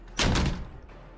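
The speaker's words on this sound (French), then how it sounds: "vous entendez une porte qui claque au fond" A door slams shut in a Dungeons & Dragons tabletop game: one sudden heavy thud with a rumbling tail that fades over about a second, with no one talking over it.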